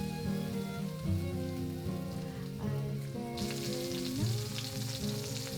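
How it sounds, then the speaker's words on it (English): Beef patty for tortas de carne frying in vegetable oil in a heated pan, a steady sizzle running beneath continuous tonal music, with brighter crackle in the second half. "After the pan is sufficiently heated, place the patty down and cook for 4 minutes on each side"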